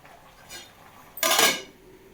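Tomato chutney being stirred in a pan, two quick metallic scrapes of a utensil against the pan, the second louder and longer, otherwise quiet.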